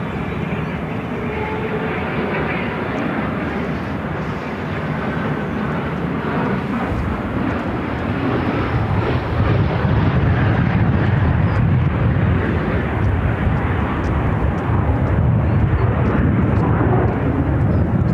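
Airliner taking off from a runway at Phoenix airport, a loud broadband engine roar heard from a distance, building steadily over many seconds and growing stronger toward the end.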